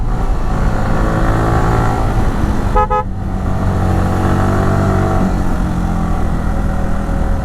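Yamaha R15 V3 motorcycle riding along a quiet road at Shindukchari, its engine droning loud and steady with harmonic revving tones, briefly interrupted by a short horn toot near the middle.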